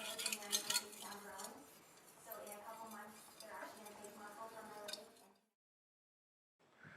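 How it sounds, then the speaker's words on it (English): A steel knife blade scrapes in repeated back-and-forth strokes across an 8000 grit whetstone, close and rhythmic, with a gritty ringing hiss on each pass, then stopping into near silence before one faint stroke. "Now I'm sharpening it with the 8000 grit whetstone."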